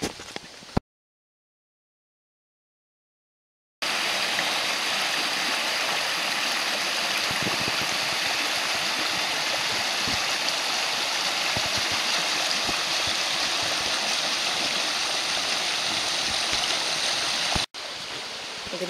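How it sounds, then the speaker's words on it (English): Creek water flowing steadily over rocks outdoors, a broad continuous rushing and gurgling close by, with a few seconds of silence early on and a brief cut near the end. "You can't even see if the water's moving. It's actually flowing really well right now"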